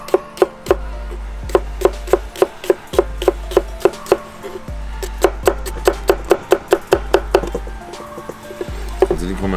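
Knife chopping produce into small cubes on a board, with a steady run of sharp, evenly spaced knocks at a brisk rhythm, close and clear, punctuated by a few brief pauses.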